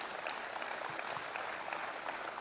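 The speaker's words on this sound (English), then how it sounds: "you can give that a round of applause." A crowd gives a round of applause at a state governor's funding announcement for North Country airports, a dense, even wash of clapping throughout, moderately loud with no talk over it.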